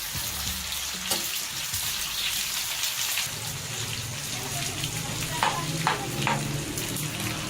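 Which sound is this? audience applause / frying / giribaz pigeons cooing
frying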